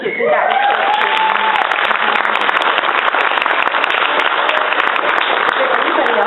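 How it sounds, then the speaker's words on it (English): Day camp audience clapping for children after a cute performance, a dense, steady burst of applause that stays loud and even throughout, with a voice faintly heard at the start. "so we're going to clap for them too, because that was so cute."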